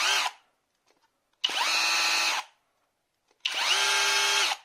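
A Makita-type cordless brushless mini pressure washer gun runs at its high speed setting in two long, loud, steady bursts of whining motor and spray, each about a second long with a short pause between them, close up and with no talk.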